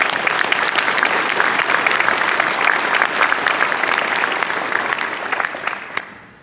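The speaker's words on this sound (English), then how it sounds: "how about a quick round of applause for our newest leader?" Sustained audience applause at a Navy League Sea Air Space event for visiting allied naval leaders, a dense, even wash of many hands clapping that holds steady for about six seconds and then fades out at the end.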